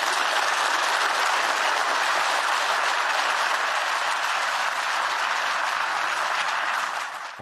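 A large audience applauds a speech by Ursula von der Leyen with sustained, dense clapping at steady loudness, fading out only at the very end.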